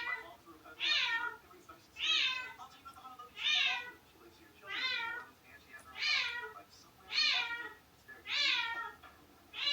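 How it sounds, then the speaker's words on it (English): A cat meows loudly and repeatedly in an apartment, about eight drawn-out, evenly spaced cries close by with short pauses between them. "Does anybody have a cat that does that?"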